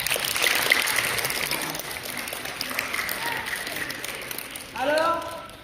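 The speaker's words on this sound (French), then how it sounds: "Applaudissez-vous." Audience at the TKF 2025 festival day clapping as a broad, steady wash of applause. It grows louder near the end, and a voice rises over it.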